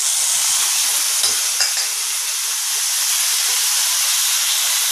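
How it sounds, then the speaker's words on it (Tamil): Tomatoes and curry leaves sauté in oil after onions in a pan for Tamil Nadu vada curry, producing a loud, even hiss with faint stirring clicks near the start. "தக்காளி நல்லா வதங்கட்டும்"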